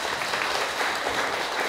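A crowd of villagers at a vaccination event in Bueng Kan, Thailand, breaks into dense, loud applause, a continuous close wash of many hands clapping with no pauses.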